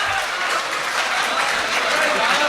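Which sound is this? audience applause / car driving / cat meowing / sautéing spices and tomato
audience applause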